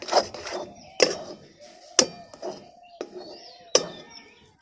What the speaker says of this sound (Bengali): শুধু নাড়তে থাকবো। আর এটাকে আমি শুকনো শুকনো করে নেব।